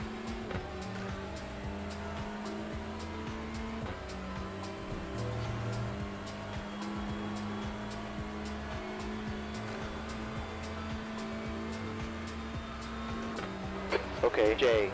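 Honda race car engine in iRacing during an IMSA Michelin Pilot Challenge race, a steady droning whine that holds pitch with brief gear shifts, constant and close, with a louder burst near the end.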